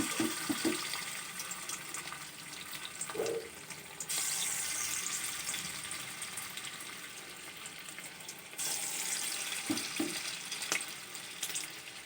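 Banana flower fritters shaped from gram flour batter fry in hot oil in a wok, a steady crackling sizzle running throughout, rising to a brighter, louder hiss twice as more pieces go in, with soft clinks between.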